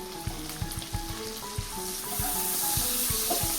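Chopped tomato sautéing in hot oil with spices and white sesame for a green corn khichdi, a steady close sizzle with soft stirring knocks and clinks at a regular rhythm, no voices.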